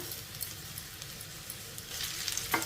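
Potatoes with spices and curry leaves fry in a pan over a medium flame, with a soft, steady sizzle and occasional light stirring taps close by. No one speaks.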